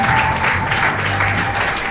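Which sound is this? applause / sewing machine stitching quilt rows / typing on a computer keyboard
applause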